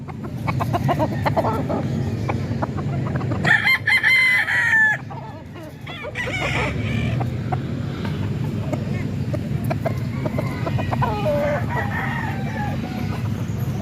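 Chickens cluck and a rooster crows close by, with overlapping calls in a busy farmyard and a brief rustle partway through.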